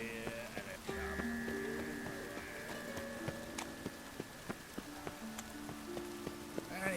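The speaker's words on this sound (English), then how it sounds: "And it's raining again." Rain falling in the video game The Witcher 3: Wild Hunt, a soft patter of drops with scattered sharper taps and a low hum beneath, mixed with faint tonal game sounds and occasional hoof-like clops.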